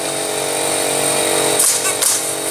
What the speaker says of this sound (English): Glad I'm not up there nailing.